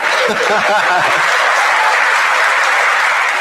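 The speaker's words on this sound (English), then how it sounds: "it's okay to clap" Audience clapping at the announcement of a massive natural gas plant in Piketon, a loud, dense, sustained round of applause from a crowd, with a few voices and chuckles early on.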